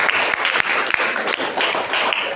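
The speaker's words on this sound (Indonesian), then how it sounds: "Berikan tepuk tangan." A classroom audience applauds a teaching demonstration in a school computer lab, a burst of many hands clapping at steady loudness with a couple of sharp louder claps near the start and no talking over it.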